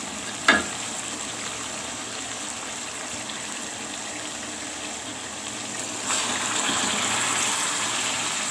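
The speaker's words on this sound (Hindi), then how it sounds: "अब हम इसमें शामिल करेंगे पानी।" Water poured into a hot pot of masala pulao crackles and hisses in a soft burst, then the sizzle swells and keeps going steadily.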